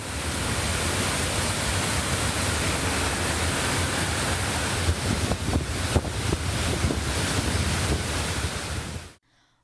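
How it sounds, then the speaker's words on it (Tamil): Thirparappu waterfall in Kanniyakumari district pours in heavy flow after overnight rain, a loud, dense, unbroken roar of falling water close by, cutting off abruptly at the end. "கன்னியாகுமரி மாவட்டத்தில் விடிய பெய்த மழை காரணமாக திருப்பரப்பு அருவியில் நீர்வரத்து அதிகரித்துள்ளது."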